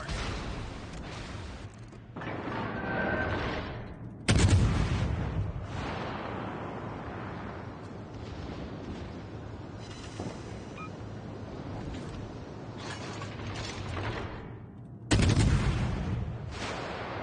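Warship guns in World of Warships Legends fire in heavy salvos, with loud booming bursts near the start and again toward the end and rumbling battle noise between them.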